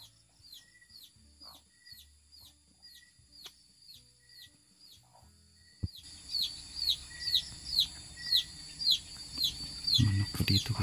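Chickens cluck and chirp repeatedly at a Filipino home yard, the calls getting nearer and louder in the second half over rustling background noise.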